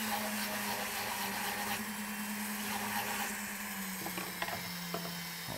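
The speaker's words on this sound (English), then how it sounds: "I'm going to just file some decorative shapes into this." A flex shaft rotary tool spins against a metal rod while filing decorative shapes, a continuous mechanical whir with a low hum and scraping grind, ending in a few sharp clicks and taps, nearby and fairly quiet.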